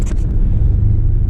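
A 25-year-old project truck crawls along in first gear on its first drive in six years, its engine a steady low rumble close by with no one talking.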